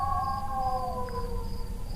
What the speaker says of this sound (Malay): Lolongan anjing saling bersahutan.